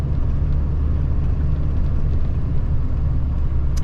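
A pickup truck engine running loud in cold weather, heard from inside the cab as a steady, heavy low rumble and hum that stays constant with no voices.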